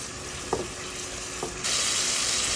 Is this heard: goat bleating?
no